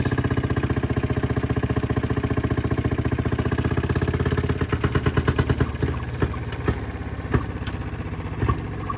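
A Fairmont pop car's small engine runs with the throttle opened, a loud, rapid chugging beat that turns into uneven, sharper firing pops toward the end, with a high whine at the start.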